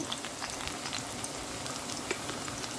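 Saltfish frying in hot oil, a steady dense crackle with scattered sharper pops, moderately quiet and continuous with no one speaking.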